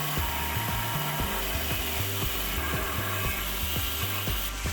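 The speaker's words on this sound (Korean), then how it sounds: "선을 따라 천천히 깊게 커팅해 줍니다" A power saw cuts slowly and deeply along a marked line on a 600 mm balcony floor tile, a loud continuous grinding drone with rhythmic low pulses as the blade works, close and without any talking.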